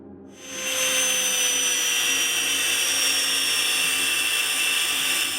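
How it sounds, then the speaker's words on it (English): An angle grinder cuts a steel chef's knife blank along marked angle lines, a loud, continuous high-pitched whine with a steady grinding roar that starts after a brief lull and holds without a break. "Hold the grinder steady with both hands. Make the angle cuts first."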